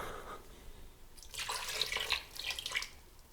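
A small glass of water is poured into a pan for a Christmas sole dish: a soft splash and trickle of liquid for about two seconds, close and fairly quiet, following a moment of near silence.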